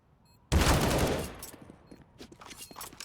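Scout and AK rifle gunfire in a competitive first-person shooter match erupts as a sudden, loud, dense volley that holds for about a second, then thins into scattered sharper shots and clatter.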